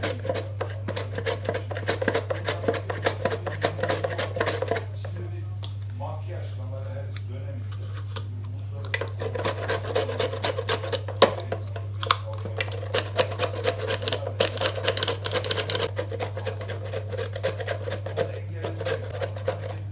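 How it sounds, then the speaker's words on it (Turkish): Half a quince is grated into long, thin strips on a mandoline grater, giving fast, even rasping strokes that repeat in a busy rhythm over a constant low hum, with a voice talking over parts of it. "mandolin rendeyle bunu böyle uzun uzun olacak şekilde rendeliyorum"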